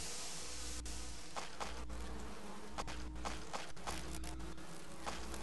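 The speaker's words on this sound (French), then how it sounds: "j'utilise un spray d'insecticide là." Insecticide spray hissing onto a swarm of insects inside a mansion in the Resident Evil GameCube remake, with a steady insect buzz throughout and several short bursts of spray or scuttling on top, no talking.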